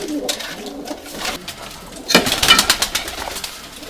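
White Istanbul and Urfa Arab pigeons coo in a loft, a few soft rounded calls rising over a quiet background, with a slightly louder burst of cooing late on.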